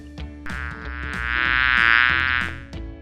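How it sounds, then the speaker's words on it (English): Cartoon-style bee buzz from a toddler animal-sound guessing game: a single buzzing tone that swells for about two seconds, over light rhythmic musical beats. "You're right, it's a bee."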